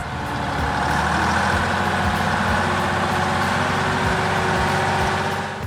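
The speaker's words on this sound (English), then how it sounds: "The engine growls while the wheels are gripped tight by the muck, unable to move." A Ural truck stuck in a deep mud hole, its engine growling in a steady, loud low rumble that holds without a break, heavy and close, with no voices.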